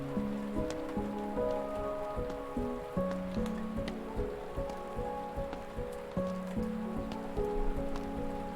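Rain ambience in the video game Anamnesis, a steady patter of drops on surfaces beneath sustained low musical tones and soft rhythmic thuds, moderately quiet throughout.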